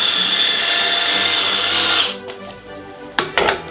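Food processor blending pesto, a loud steady high-pitched motor whir for about two seconds that stops abruptly, followed by a few clattering knocks.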